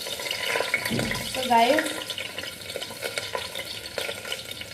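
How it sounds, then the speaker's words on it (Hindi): Onion and garlic frying in a pan on a home stove give a steady, moderately loud sizzle with some stirring, heard under someone talking. "प्याज डाल देती हूँ, लहसुन जलने लगा है।"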